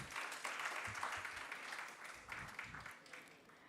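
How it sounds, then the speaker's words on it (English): A crowd at an awards and book launch event applauds in a quiet, sustained wash of clapping heard from some distance, with a low voice faintly underneath. "Let's have a round of applause"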